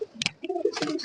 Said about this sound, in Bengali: মানে কবুতর আমার একটা ফেভারিট কবুতর দেখাই, যেটা হচ্ছে আবিরের কবুতর।